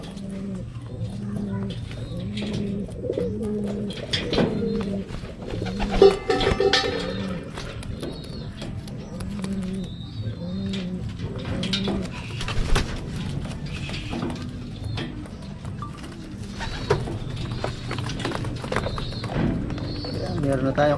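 Racing pigeons coo in steady, repeated low calls after a hard race from Tagudin, Ilocos, close and fairly loud, with a few sharp knocks and some background noise.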